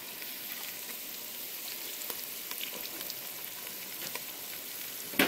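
Olives fry in a pan with a steady, close sizzle and scattered small pops and crackles, with no voices.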